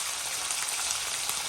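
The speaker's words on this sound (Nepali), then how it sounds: "अनि जिरा राखिदिएपछि यसमा जिरा फ्राई हुँदै जान्छ।" Cumin seeds frying in hot oil in a black iron wok, a steady close crackling sizzle with no talking.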